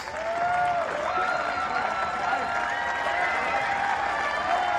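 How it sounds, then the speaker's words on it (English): Crowd at a squash match in El Gouna cheering and applauding: steady, loud clapping mixed with shouts and whistles, holding for several seconds without a break. "he's got a bit of a cheer from the crowd"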